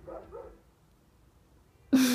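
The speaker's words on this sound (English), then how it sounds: "the dog is barking on the other side, cheering me on" A dog barks on the other side of a room or wall, giving one sharp bark at the very end after a quiet stretch with faint breathy sounds.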